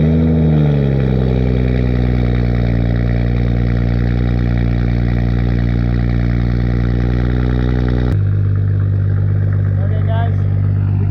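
Cold start of a BMW G20 M340 with an aftermarket downpipe: steady engine rumble with strong low harmonics, idling high and then dropping abruptly to a deeper, lower idle partway through; loud and close, no talking.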